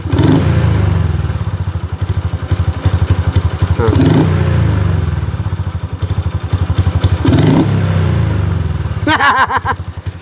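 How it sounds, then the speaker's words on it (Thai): A 2021 Honda Wave motorcycle with an unsteady, rough-running engine, revved repeatedly: a loud, close idle putter rising into several throttle blips and falling back, uneven throughout. "เดี๋ยวเดี๋ยวเราลองเร่งดูว่ามันรวนแบบไหน"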